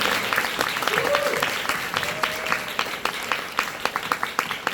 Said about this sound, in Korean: 한번 박수 한 번만